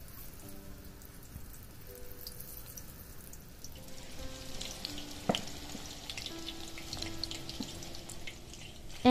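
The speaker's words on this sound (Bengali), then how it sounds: "এবার মিডিয়াম আঁচে দিয়ে আমি একে একে সয়াবিনগুলো ছেড়ে দেব" Soybean chunks frying in hot white oil over medium heat, a steady crackling sizzle that swells and grows busier as more pieces drop in, with a few sharper pops near the end.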